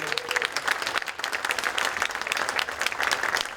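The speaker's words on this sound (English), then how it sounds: "Please, a big round of applause for Diana." Audience applause fills a room at a Chamber of Commerce awards dinner, dense steady clapping from a crowd lasting the whole stretch, with a brief voice at the start.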